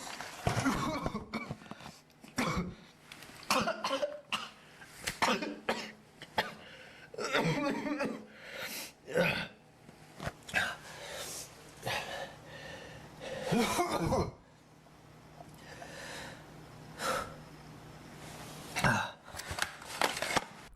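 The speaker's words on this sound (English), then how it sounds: "has a very random, violent coughing fit, making him stumble onto his knees" A man in the Marble Hornets web series suffers a violent coughing fit, with harsh, repeated hacking coughs and throat-clearing bursts in irregular clusters, loud and close, separated by short ragged pauses over about twenty seconds.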